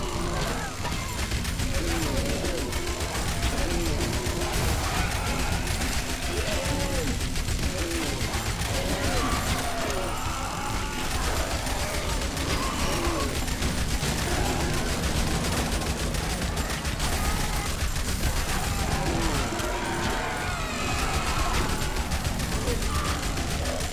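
Rapid SMG gunfire from the zombie survival game Yet Another Zombie Survivors, a dense continuous rattle of shots mixed with game effects that runs steadily for the whole stretch with no pauses.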